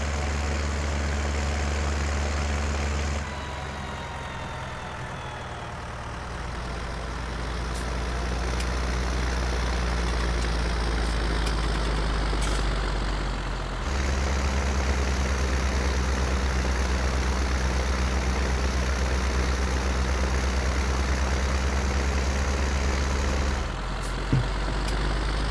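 A John Deere tractor's heavy diesel engine in Farming Simulator 19 idles steadily and loud, its low rumble shifting pitch briefly in the middle before settling back into a constant drone.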